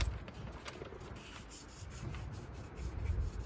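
Light scuffing by hand on a Suzuki Swift Sport door panel during dent repair bodywork, a close, steady rubbing rasp that swells slightly toward the end, with no talking.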